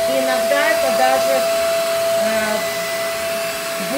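A vacuum cleaner runs steadily on pillows and blankets, a constant whining drone with a high tone, while someone talks over it.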